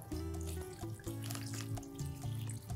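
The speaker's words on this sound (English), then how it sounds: "Fill the pot with water." Tap water pours steadily into a big cooking pot for a chicken stew, a continuous close rushing flow whose pitch shifts slightly as the pot fills.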